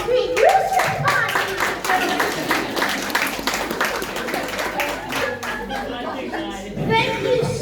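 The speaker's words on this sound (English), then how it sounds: "Can we give a big round of applause and greet Yusuf Khan?" Audience applause at a book launch, dense rapid clapping from a crowd running throughout, with chatter and laughter mixed in.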